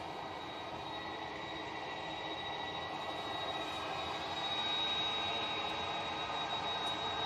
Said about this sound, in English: Turkish Airlines A330 coming out next